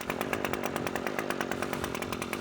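A computerized chainsaw runs steadily in a temperature swing, giving a close, loud, buzzing engine drone with a fast regular pulsing rhythm throughout.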